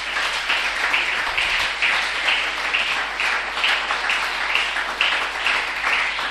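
A church congregation applauding together, steady rhythmic clapping sustained throughout, a dense crowd sound of moderate loudness with no talk.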